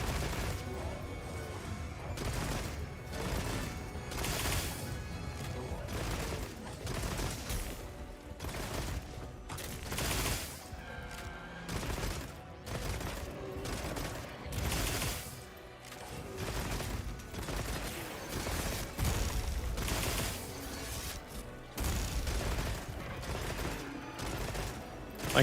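Video game gunfire aimed at a rock, heard as dense, continuous bursts of clattering shots with crashing impacts and mechanical rattles that run steadily throughout without pause.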